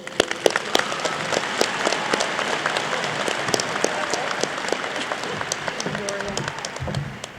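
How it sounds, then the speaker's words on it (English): A crowd at a college commencement applauds steadily and loudly for the whole stretch, dense clapping with a few sharper individual claps standing out. "I'd like a round of applause to celebrate President Hilgersom's support"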